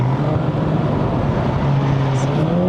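A MK5 Volkswagen Polo GTI engine pulls with a steady, loud drone inside the cabin during a mountain drive in Malaysia, the pitch climbing slightly over a few seconds.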